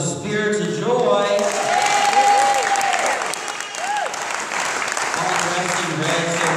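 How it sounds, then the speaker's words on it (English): Church congregation applauding the Spirits of Joy choir, a warm wash of many hands clapping with voices and a few cheers mixed in, while a person talks over the applause. "Can I get a round of applause for the spirits of joy?"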